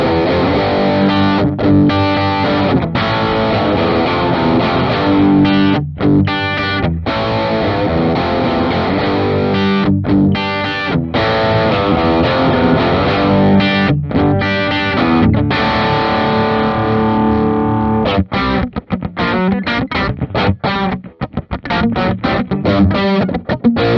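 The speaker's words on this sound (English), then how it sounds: "let's go ahead and try some distorted tones on this as well" A 2022 Epiphone Jerry Cantrell Les Paul Prophecy electric guitar played through heavy distortion, loud chugging riffs and sustained chords ringing almost continuously, with a few brief stops and choppier muted strokes near the end.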